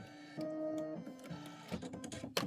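A computerized embroidery machine stitches a decorative pattern on a quilt block, its motor whirring steadily with rhythmic needle clatter and pitch shifts, heard up close and alone.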